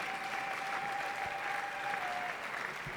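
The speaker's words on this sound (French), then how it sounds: "Applaudissez pour Jésus-Christ." A congregation at a church service in Lubumbashi claps steadily for several seconds, a thick, even roar of many hands with a faint sustained tone running underneath.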